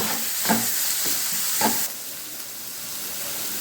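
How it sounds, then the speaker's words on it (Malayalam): Tomato mixture for chicken bonda sautéing in a pan, a close steady sizzle with a few stirring scrapes in the first half before the frying settles into a quieter hiss; no talking. "ഇനി അതും കൂടെ നന്നായിട്ടൊന്ന് വഴറ്റിയെടുക്കുക."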